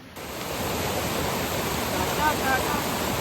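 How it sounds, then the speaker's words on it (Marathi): Steady broadband rush of falling water, continuous and fairly loud throughout, heard from close by at the top of Kapra waterfall near Alibag. "कापरा धबधब्याच्या आम्ही वरती आलोय"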